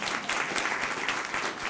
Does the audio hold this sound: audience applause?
yes